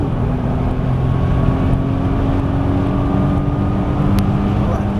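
A Nissan GT-R engine drones loud and steady on a racetrack, a continuous close-up roar with no clear break for a gear shift, heard from inside the car.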